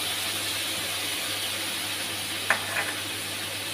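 Tomato and salt go into a hot pan with steady sizzling throughout, plus a couple of brief clinks or stirring taps near the end.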